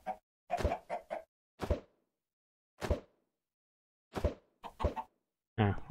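Minecraft chickens popping out of thrown eggs, a string of short clucking and plopping bursts spaced irregularly, each brief and fairly close, with gaps of silence between.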